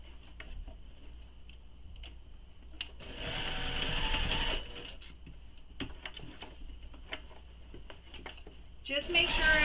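A sewing machine stitches to close a fabric handbag base, with short bursts of rapid ticking and one longer whirring run in the middle, near and moderately loud, while someone talks quietly in between.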